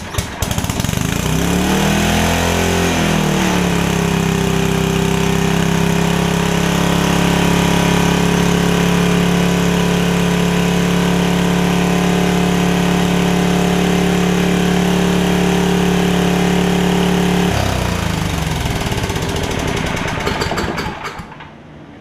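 A Powerback 5250 W generator with a 10 hp Tecumseh gas engine cranks, then settles into a loud, steady, close droning run before the engine speed changes and winds down near the end.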